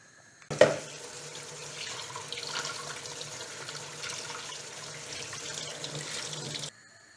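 Tap water runs steadily into a sink as food is rinsed under it in a home kitchen, starting with a sharp splash and flowing evenly for several seconds before cutting off, close and alone.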